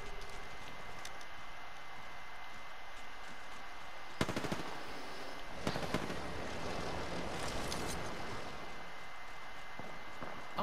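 Gunfire in the video game Apex Legends: a few sharp bursts of rapid shots, the longest around the middle, over a steady background hum, fairly quiet overall.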